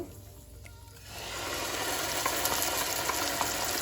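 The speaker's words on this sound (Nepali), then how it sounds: "यसलाई लो टु मिडियम हिटमा फ्राई गर्नुपर्छ।" Pureed onion frying over low to medium heat in a pan for a thick, creamy white chicken curry, a steady loud sizzle that bursts in after a quiet second and holds close with faint crackles, no talk.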